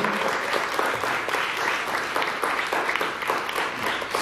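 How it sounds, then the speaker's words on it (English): Dense audience applause fills a youth songwriting workshop culmination program, steady and full from start to finish with no voices rising above it. "Let's give them a round of applause."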